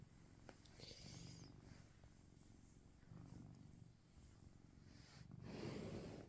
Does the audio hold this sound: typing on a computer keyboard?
no